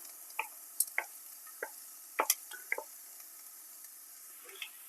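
Boiled, peeled, mashed potato is added to a spiced masala mixture in a pan for quail egg cutlets, giving a handful of soft, close squishy plops and wet taps with quiet gaps between them.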